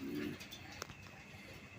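A Rasgolla pigeon, sky-blue or red checker, gives a brief low coo at the start, followed by faint room noise and a single soft tap, all very quiet.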